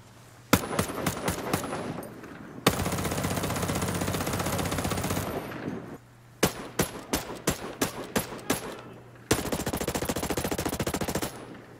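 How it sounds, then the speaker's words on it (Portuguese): M4A1 and 4AC assault rifles fire in the Ghost Recon Breakpoint video game, alternating single spaced shots with sustained full-auto bursts, loud and close, each string ending in brief quiet. "Agora quanto ao som do disparo, eu vou atirar com rajada mono e auto rajada"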